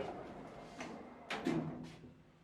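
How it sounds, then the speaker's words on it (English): Lift doors in an abandoned university building sliding shut, a short sequence of soft scraping and rumbling movement ending in a dull bump, heard in a quiet, reverberant space. "Doors closing."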